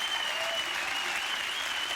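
A studio audience at a comedy chat show applauding, dense continuous clapping close and loud throughout, with no voices over it.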